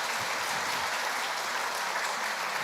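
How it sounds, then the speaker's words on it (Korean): A church congregation claps together in celebration during a pastor's installation thanksgiving service, a steady, dense wash of applause filling the room without a break. "우리 축하 박수 한번 드릴까요?"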